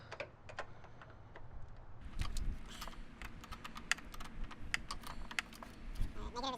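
A 10 mm socket ratchets against the terminal nut of a car battery on a Honda Accord, a string of quiet, close, quick clicks that speed up partway through, with a few faint spoken words.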